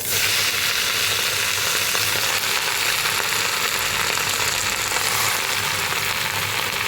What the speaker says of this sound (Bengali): এবার কড়াতে আমি 1 চামচ তেল দিয়ে এই পাতাগুলোকে দিয়ে দেবো।